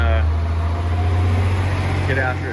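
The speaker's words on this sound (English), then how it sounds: "Oh yeah, garbage truck." A garbage truck passing outside a garage gives a steady, loud low rumble with a mechanical drone, while someone speaks briefly over it.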